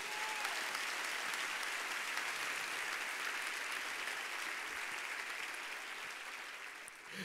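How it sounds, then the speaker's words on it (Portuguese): Sustained applause from a large church congregation at a youth service, steady and full, fading slightly toward the end. "Você pode aplaudir o Senhor por isso?"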